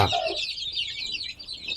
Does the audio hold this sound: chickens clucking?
yes